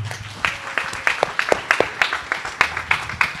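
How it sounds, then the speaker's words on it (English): An audience at a symposium claps, with scattered, uneven hand claps building into brief applause over a few seconds. "A big round of applause for her,"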